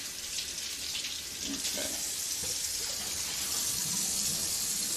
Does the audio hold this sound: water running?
yes